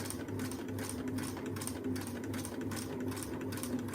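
A sewing machine stitches quilt fabric steadily at a slow, even pace, its motor humming with a soft repetitive stitching rhythm throughout, close and continuous.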